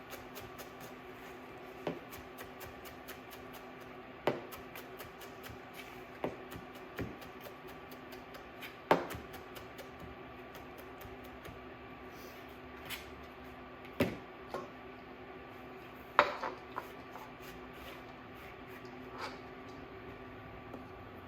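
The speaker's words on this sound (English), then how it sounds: "We're not picking the cilantro, we're just chopping it finely." A knife chops fresh cilantro finely on a board. Irregular sharp taps recur through a steady low background hum, some louder and some faint, with short gaps between them.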